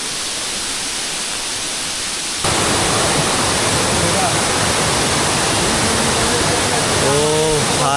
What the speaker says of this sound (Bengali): আপনারা এখানে আসলেই বুঝতে পারবেন যে কতটা সুন্দর এই ঝর্ণা